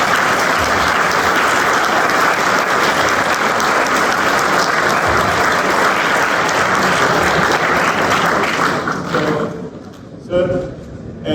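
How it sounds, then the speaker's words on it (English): Students in a lecture hall applaud loudly and steadily for about nine seconds, then the clapping fades out and a voice begins speaking. "so clap for yourself."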